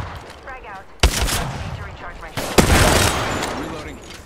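In an Apex Legends firefight, a frag grenade goes off with two sharp, loud blasts followed by a rushing roar, mixed with nearby gunfire and squad chatter.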